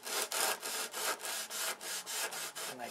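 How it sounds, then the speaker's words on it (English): A roll of sandpaper rubbed back and forth by hand over a block, making quiet rhythmic rasping strokes about every quarter second, close and steady, with no speech. "So what I do is I take the roll of sandpaper"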